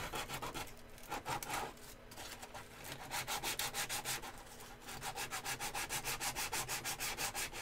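Sandpaper rubs across a toy blaster in rapid, steady back-and-forth strokes, close and continuous, with a fast rhythmic scratching that barely pauses throughout.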